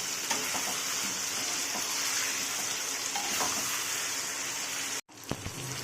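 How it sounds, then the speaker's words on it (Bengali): Chicken pieces sizzle in hot oil with a continuous, bright crackle at close range, a few faint clinks, and a sudden brief cut near the end before the sizzle resumes. "প্রথমে মাংসটাকে ভেজে নিব তারপরে রান্না করবো"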